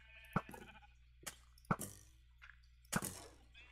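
Sheep bleating in a dungeon in a video game, three or four short separated bleats at moderate distance over a low background hum, fairly quiet, with no talking.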